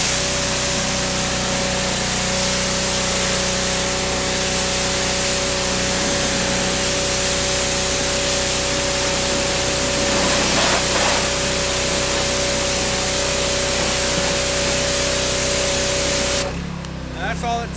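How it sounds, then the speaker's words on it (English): Aerosol spray of cleaner misting over a car engine bay, a steady hissing wash that runs loud and continuous for most of the span, with a low mechanical hum underneath before it cuts off near the end. "I always start at the top, work my way down, so I'm gonna spray stuff up there."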